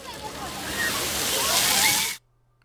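Water sloshing and splashing plays back from an iPhone Live Photo clip, a steady rushing wash that builds slightly and then cuts off abruptly, leaving near silence.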